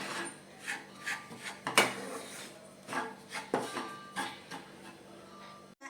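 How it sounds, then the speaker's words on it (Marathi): Dried date powder being stirred and roasted in a hot wok for winter gum laddoos, with the heat turned off: a soft, close scraping and rasping of a spatula in irregular strokes, with occasional sharper clinks against the pan. "गरम कढईमध्ये सुरुवातीला आपण हे खारीक पावडर परतून घेऊया"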